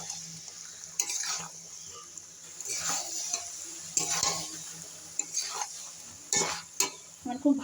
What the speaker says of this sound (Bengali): আমার খুব ভালো করে কষানো হয়ে গেছে।